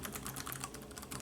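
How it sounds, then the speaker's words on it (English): Rapid, soft clicking keystrokes on a Lenovo ThinkPad Compact USB Keyboard (KU-1255), a quiet laptop-style keyboard, tapping in a quick uneven stream, faint and close with no voices. "it might sound loud in video, but in real life, it's just like using a laptop keyboard"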